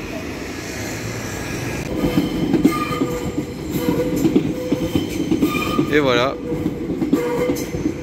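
Trains roll through Gare Saint-Lazare in Paris, a continuous rumble with clattering wheels and a brief rising squeal or horn, loud and near, with a voice speaking briefly over it.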